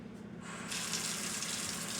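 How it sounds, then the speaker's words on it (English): Cold water gushes steadily from a kitchen sink tap into a garbage disposal being run with ice, a close, continuous splashing rush with no speech. "I'm going to turn cold water on, and I'm going to run my garbage disposal"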